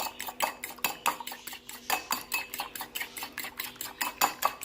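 A spoon scrapes and clinks against a bowl as chicken mince is mixed with onion for burger patties, a steady rapid rhythm of close metallic taps with no talking.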